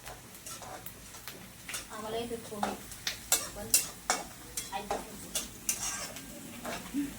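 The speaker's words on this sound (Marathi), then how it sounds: "शेंगदाण्याला थोडं त्याच्यात तळून द्यायचं" Roasted peanuts fry briefly in oil in a pan for poha, with a light sizzle under a steady rhythm of close spoon scrapes and taps against the metal.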